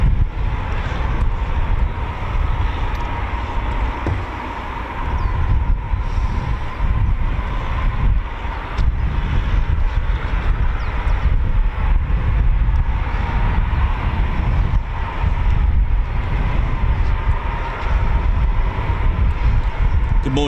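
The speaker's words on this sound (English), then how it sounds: "So we start the morning with 4 Typhoon departures. Here's another one." Eurofighter Typhoon FGR4 jet departing RAF Coningsby, a loud broad roar holding steady throughout, with people talking over it.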